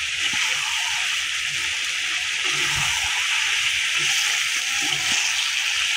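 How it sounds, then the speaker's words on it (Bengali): Broiler chicken with potato and tomato sautéing in a pan, a steady close sizzle with occasional soft stirring knocks, no talking. "আমি ভালো করে কষিয়ে নিচ্ছি।"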